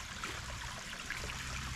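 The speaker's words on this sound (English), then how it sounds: "I can already hear the dam picking up, the water wheel picking up." Water flowing into a small hand-built dam, a steady close rushing trickle with no other sounds over it.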